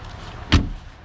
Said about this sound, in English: Door closes sweet.